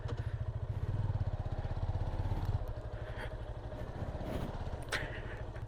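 A Yamaha FZ25 motorcycle engine thrums steadily while riding, a close, even low-pitched pulsing that lifts slightly midway, with faint clatter over the top.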